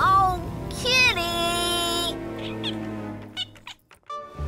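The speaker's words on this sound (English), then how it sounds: "Oh, kitty!" A cartoon cat meows in long, bending, high-pitched calls, loud and close, followed by a few shorter fading sounds.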